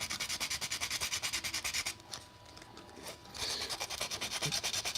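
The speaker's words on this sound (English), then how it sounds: "The sandpaper it comes with was not strong enough, so I had to grab some 120." A 3D printer filament spool is rubbed with 120 grit sandpaper in rapid rhythmic back-and-forth strokes, close and loud, with a short quieter pause in the middle before the sanding picks up again.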